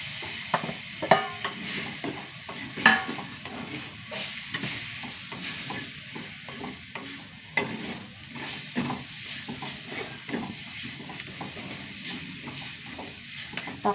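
Tomatoes and spice powders sauté in a pan with a soft, steady sizzle and occasional scraping stirs, fairly quiet and close, with no voices.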